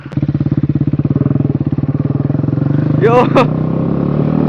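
A motorcycle engine with a newly fitted exhaust idles close by in a fast, even putter that swells slightly, while a person speaks briefly over it near the end.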